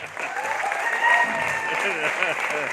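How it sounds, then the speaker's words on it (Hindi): Audience applause at a success-story event in India, a sustained clatter of hands clapping mixed with a voice talking over it and faint whistles. "जोरदार ताली एक बार सर के लिए और हमारे सभी अम्बेसडर के लिए जोरदार क्लैपिंग"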